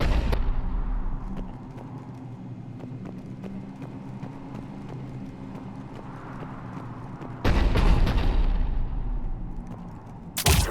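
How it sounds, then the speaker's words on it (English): Cannon fire in the Mass Effect 3 turian platoon battle rumbles and booms at a distance, with sharp bursts near the end over a continuous low battle drone. "The cannon fire is clearing the way."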